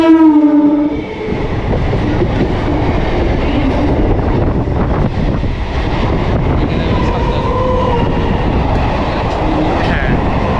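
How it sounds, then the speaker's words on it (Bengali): A local train on the Sealdah–Budge Budge line pulls in, opening with a loud horn blast, then a steady close rumble and clatter of wagons rolling past with squealing wheels. "আরেকটি ট্রেন চলে আসছে, এটা চলে যাবে কিন্তু শিয়ালদাতে।"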